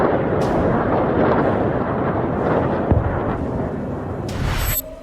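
A sustained, heavy rumbling roar of a missile explosion during an Iranian missile attack on Israel, loud and continuous with small pops over it before it cuts off abruptly near the end.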